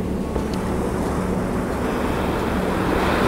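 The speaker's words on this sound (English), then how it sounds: "I also wanted to get the waves breaking on the beach a lot closer to the camera" Waves breaking on a beach at sunrise, heard as a steady, broad roar of surf close by with some wind buffeting the microphone, no voices.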